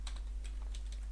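Quick keystrokes tap on a computer keyboard in a brief, even burst, close and quiet over a low steady hum, with no voices.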